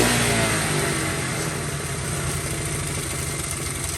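Honda CT70 motorcycle engine running steadily at a rough idle, a continuous close, loud mid-pitched putter with slight surging and no voices.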